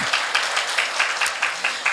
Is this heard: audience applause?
yes